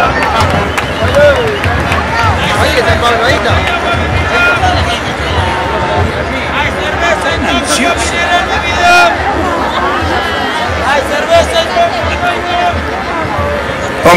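A large outdoor crowd at a street protest in Argentina claps and cheers loudly in a dense, continuous wash of applause mixed with shouting and chatter.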